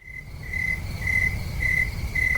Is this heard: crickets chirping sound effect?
yes